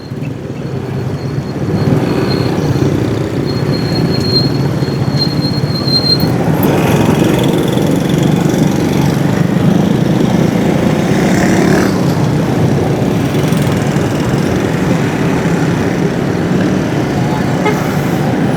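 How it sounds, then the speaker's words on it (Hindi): A motorcycle with a rattling engine fault rides along a busy city road from Safari Park toward Jail Road, giving a steady, loud engine and road drone with occasional vehicle horn toots nearby. "लो मेरी मोटरसाइकिल भी जो है ना कच कच कच कच करने लग गई है"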